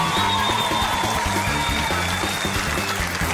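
Steady applause from a TV studio audience fills the whole stretch at an even, moderately loud level, with a faint music bed underneath.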